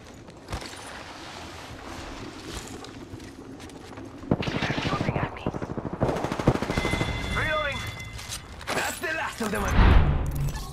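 Video game gunfire in a Wraith domination match: rapid machine-gun bursts and scattered shots crackle in repeated loud volleys across the span, with talk mixed in.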